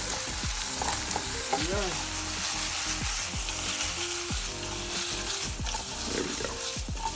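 Onion sizzling and frying in a single pan alongside Cajun pork sausage, a steady crackling hiss close up with occasional stirring scrapes and a brief voice.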